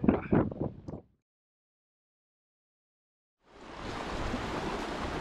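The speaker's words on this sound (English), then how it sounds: "So this is all glacial runoff that creates these little streams." A small glacial meltwater stream on Mount Adams rushes steadily and close, a broad constant wash that begins after a few seconds of muffled handling noise and quiet.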